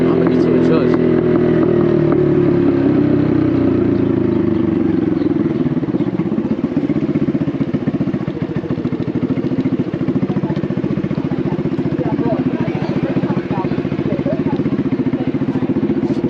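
A Honda Navi motorcycle with a Vance & Hines exhaust pulls hard through city streets in Brooklyn, its steady, loud engine note droning close and constant, with wind noise and a rider's voice over it.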